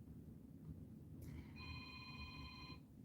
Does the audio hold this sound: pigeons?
no